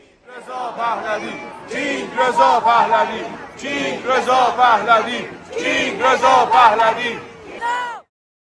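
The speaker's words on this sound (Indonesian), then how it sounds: "Kerumunan besar terjadi di depan konsulat AS di Kanada." Large crowd of Iranian-Canadian protesters shouting together outside the US consulate in Canada, loud rhythmic chanting bursts rising and falling in waves with brief pauses between.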